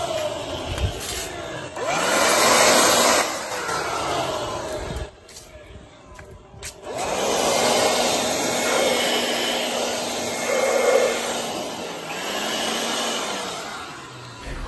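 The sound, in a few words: cordless lithium air blower drying a car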